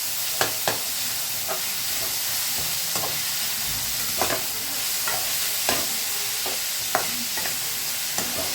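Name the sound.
poha being sautéed and stirred in pan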